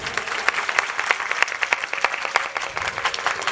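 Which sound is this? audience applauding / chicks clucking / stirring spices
audience applauding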